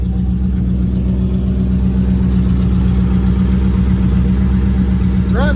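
A 1971 Comet car engine idles smoothly and steadily, loud and close, with a low even exhaust rumble that stays constant throughout.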